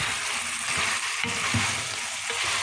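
Chicken and chopped okra sizzle and crackle steadily in a hot pot, with a few soft scraping knocks from stirring.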